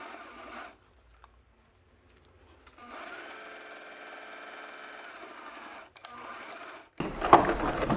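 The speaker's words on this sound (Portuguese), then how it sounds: "Então, vamos lá passar essa costurinha." A sewing machine runs a short, narrow seam at the edge of the fabric. A steady mechanical whir with a brief pause holds near and alone for several seconds, then louder handling noise follows.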